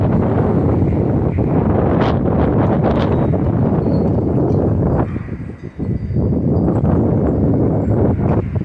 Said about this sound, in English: I'm getting 40 to 50 plus mile an hour gusts right now.